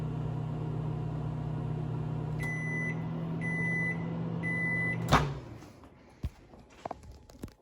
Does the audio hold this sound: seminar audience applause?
no